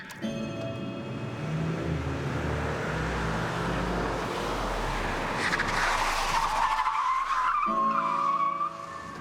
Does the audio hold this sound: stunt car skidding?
yes